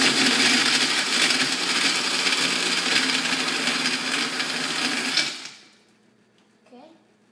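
A blender whirs loudly and steadily for about five seconds as it mixes a blueberry lemonade smoothie, then cuts off abruptly into near silence.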